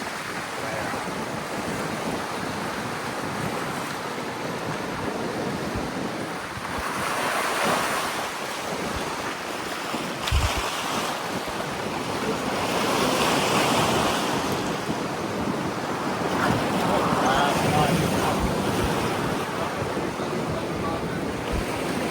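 Ocean waves rolling in and breaking on the Kauai coast, Hawaii, during rain, a continuous roaring wash with swells every few seconds, buffeted by strong wind noise.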